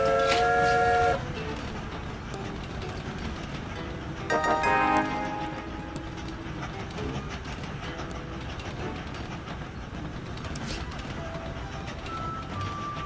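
Trains rolling along rails in the railway puzzle game Train Valley, a steady rumbling clatter with brief bright chime-like tones near the start and again around the middle, and occasional higher electronic notes, no talking.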